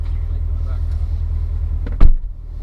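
A 2015 Corvette idles steadily close by with a deep low rumble, while a brief thump or door-like knock cuts in near the end and voices are faint in the background.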